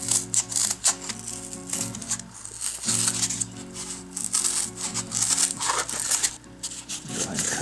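Vegetable-tanned leather being rough cut for a knife sheath, a run of close, crisp snipping and crunching strokes in an irregular rhythm with a steady low hum behind, no talk.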